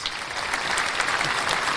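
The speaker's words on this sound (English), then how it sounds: "a big thank you and a round of applause" A short stretch of steady, dense applause from an audience, even and unbroken at moderate loudness.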